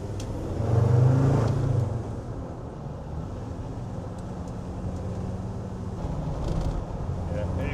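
A Land Rover Defender Td5 fitted with a GTB450 turbo accelerates in second gear, a steady in-cabin engine drone and road roar that swells briefly early on, with people talking over it.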